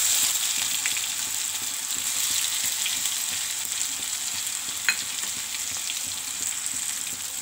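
Ginger garlic paste frying in hot oil for a prawn masala, a continuous bright sizzle with faint stirring scrapes throughout, close and steady, no voices.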